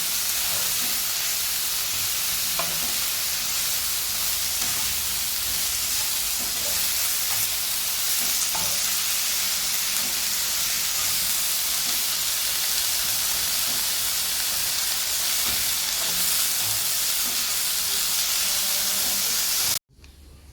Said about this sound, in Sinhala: එළවලු ටික තැම්බෙනකම් හොඳට අර දාපු තෙල් එකේම